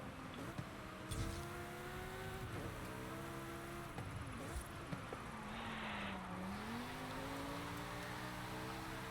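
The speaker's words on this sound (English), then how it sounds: "So you definitely see the turbo. Or hear the turbo so we can feel it." A Lamborghini Huracan with a turbo in the Forza 5 racing game, its engine droning and shifting pitch through a drift, steady and loud for the whole stretch with a few sharp clicks on top.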